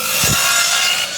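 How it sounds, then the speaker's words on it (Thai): Wood is cut for concrete beam formwork on a small building site, a brief rasping stroke against steady, close background noise. "รอดนี่เพิ่นกำลังกัดไม้อยู่"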